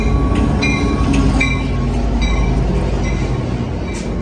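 An Amtrak San Joaquin passenger train, led by locomotive 2014, rumbles past up close departing Fresno station, steady heavy rolling noise with engine drone and occasional metallic squeals and clinks from the wheels.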